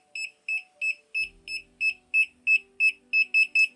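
A Minipa ET-2517A multimeter sensing voltage gives a series of short, clean electronic beeps at a steady rhythm that quickens near the end, with faint low background noise and no speech.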